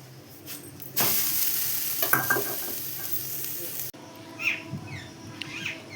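Small luchi-style rounds of coconut hit hot oil and break into a loud, dense sizzle, then the frying settles into a softer, steady crackle with faint chirps in the background.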